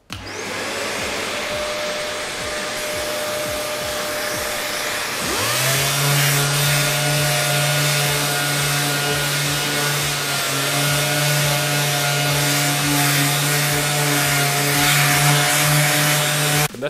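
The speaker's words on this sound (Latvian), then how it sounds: "Tad esam pabeiguši slīpēt" A power sander works 320-grit paper across primer on a BMW car bumper, giving a loud, continuous whine that shifts to a stronger pitch partway through and holds steady to the end.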